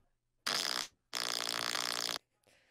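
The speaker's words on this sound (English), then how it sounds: "Oh, I feel a fart coming." A fart blown right into a microphone, two loud, close blasts, a short one then a longer sputtering one, separated by a brief silence.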